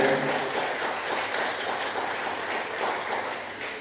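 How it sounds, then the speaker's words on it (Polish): Steady applause from an audience at an award gala for a photo book competition, honouring the second-place finisher; dense, continuous clapping fills the room for the whole stretch, fading slightly at the end. "oklaski raz jeszcze za miejsce drugie"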